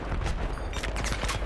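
Grenade launcher explosions and gunfire in Battlefield 3, a dense, loud run of booming blasts and rapid shots filling the short stretch without pause.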